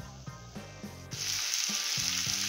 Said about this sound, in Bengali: ডালগুলো দিয়ে এবার ভালো করে নাড়াচাড়া করব।